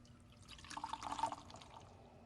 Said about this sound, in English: Can I get a little more water?